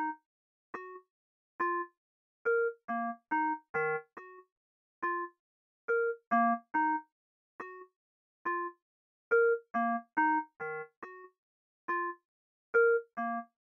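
A plucky synth preset melody, treated with flanger, reverb, fast distortion and EQ, plays short separated notes in a bouncing, repeating rhythm with clean gaps between them, alone and without talk.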